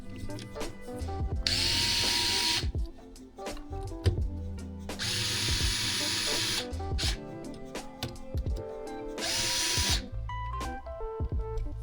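A power tool drives and tightens bolts on an upgraded 72V Razor electric scooter, whirring in several loud bursts of a few seconds each with clicks and handling noise in the gaps.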